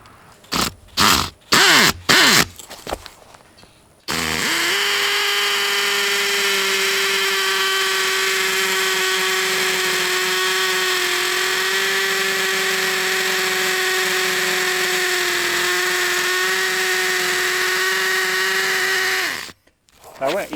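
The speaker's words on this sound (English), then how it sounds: "this drill does have a hammer drill function" A hammer drill set to hammer mode bores into concrete while building steps, a loud steady grinding drone running about fifteen seconds after a few short bursts.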